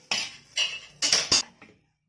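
Egg kalakki, a soft scrambled egg dish, is shifted from the pan onto a plate: four short, close metallic clinks and scrapes of a utensil on cookware, then quiet.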